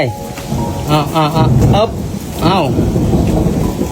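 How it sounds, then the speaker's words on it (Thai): Heavy rain roars steadily with a thunder-like rumble underneath while a person talks over it nearby, on a mountain walking route at Phu Khao Khwai. "ฝนมาแล้ว"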